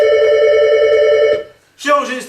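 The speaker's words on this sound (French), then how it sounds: "Si, le téléphone sonne." Telephone ringing in an office, a loud sustained electronic ring that stops abruptly, followed by a voice starting to talk.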